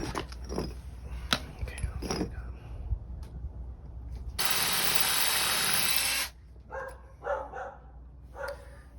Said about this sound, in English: So this is the shortest ones they had, so I'm going to drill about that deep.